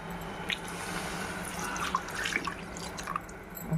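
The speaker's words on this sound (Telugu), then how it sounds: "వాటర్ పోసుకుందామండి." Water poured into a pot of mutton curry, a faint, light trickle with a few soft drips and splashes over a quiet kitchen background.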